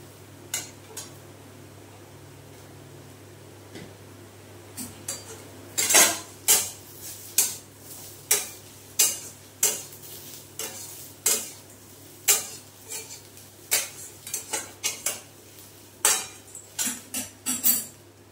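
Gati kochu taro is sautéed with turmeric and salt in a pan. A spoon scrapes and knocks against the metal in a steady, repeated rhythm over a faint background sizzle.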